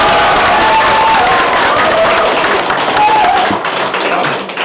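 A crowd at a candidates' campaign office in Namyangju applauds loudly and steadily, with clapping filling the space and a voice speaking over it before the clapping thins toward the end.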